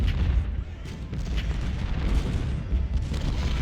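Civil War cannons in Ultimate General Civil War firing along the lines, a dense, continuous low rumble of overlapping booms at moderate distance with no voices.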